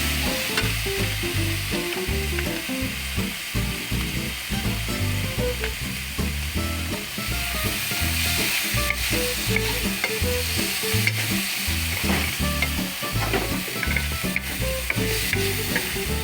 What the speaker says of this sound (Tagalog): Pinilagay ang mushroom at hinalo.